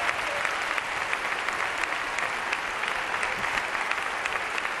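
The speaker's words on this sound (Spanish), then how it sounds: "¡Vamos a dar un aplauso a John!" A concert audience claps for a young performer, steady dense applause from a full crowd sustained evenly for about five seconds, no talking over it.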